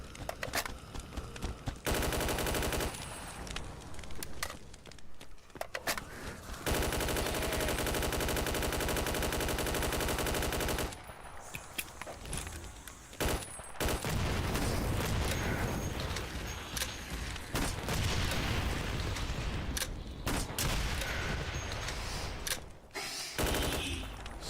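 Sustained automatic gunfire in a modded Doom shooter with Call of Duty and Tarkov style weapons, dense rattling bursts broken by short pauses, loud and continuous across the stretch with booming impacts.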